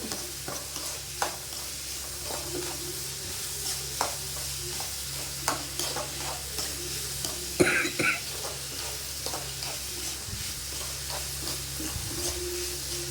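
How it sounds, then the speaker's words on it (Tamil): Onions sautéing with a pinch of salt in a pan make a low, steady sizzle under repeated close scrapes and stirs of a spoon, with one sharper clatter partway through. "கொஞ்சோண்டு உப்பு போட்டுக்கிறேன், ஏன்னா வெங்காயம் வதக்கிறதுக்கு."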